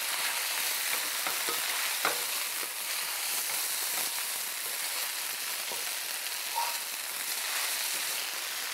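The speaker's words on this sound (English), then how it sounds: "And now give it a good stir." Salmon and shredded napa cabbage stir fry is stirred in a pot, giving a steady, close sizzle with intermittent scraping and clacking strokes throughout and no voices.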